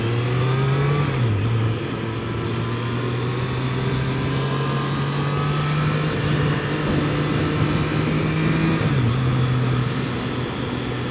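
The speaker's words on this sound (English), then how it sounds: "this bike, you can be wide open throttle and shift your gears without even touching the clutch" Triumph Street Triple 765 RS motorcycle held at wide-open throttle with clutchless quick-shifts, a loud steady engine note broken by two brief dips at gear changes, heard close up from the rider's position with constant wind rush.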